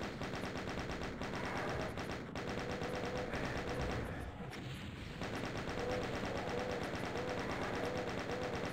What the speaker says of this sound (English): and then use my chain gun